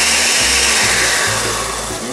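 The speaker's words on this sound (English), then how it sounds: "And a few more seconds in the blender." An electric blender whirs steadily and loudly, mixing a piña colada made with coconut, a continuous close motor drone without any talk.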